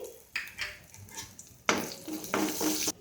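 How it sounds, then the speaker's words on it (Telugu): Urad dal, mustard seeds and cumin fry in hot oil for a tomato-coriander chutney tempering, with bursts of sizzling and crackling and brief clinks of a spoon stirring in the pan, close and fairly loud. "ఈ విధంగా కలర్ మారిన తర్వాత మనం సాయి మినపప్పు, ఆవాలు, జీలకర్ర వేసుకుని వేయించుకోవాలి"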